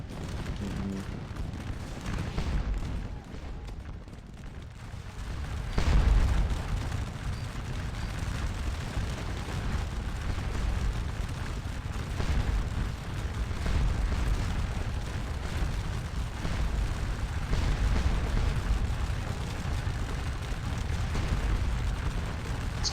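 Artillery fire in a Napoleonic battle video game set at Quatre Bras, heard as a continuous dense rumble of distant cannon booms and battle noise with no clear single shots.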